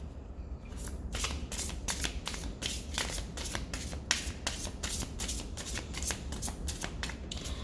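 A deck of cards is shuffled to clear it before a reading, giving repeated crisp riffling bursts in a steady rhythm, close and clear, with no talking.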